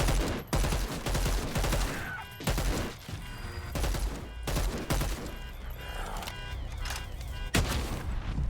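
Rapid bursts of gunfire from the video game Dead Island 2 crackle in quick succession, loud and close, with short pauses between volleys and no talking over them.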